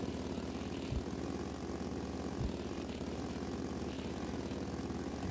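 A four-wheeler's engine in the game Draw Rider, a continuous low buzzing drone with a rough pulsing texture and two brief low thumps, steady and moderately loud with no talk.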